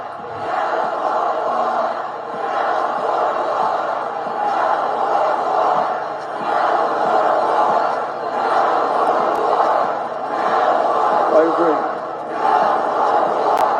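Massed voices of an anti-war protest chant in repeated waves, the crowd's shouting rising and falling in a regular rhythm for the whole stretch, loud and close.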